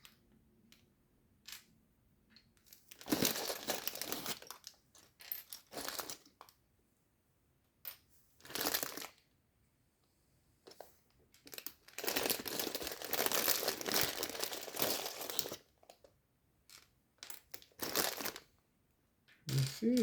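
Crinkling and rustling of a LEGO sticker sheet and parts being handled during a build, close and in irregular bursts separated by quiet gaps.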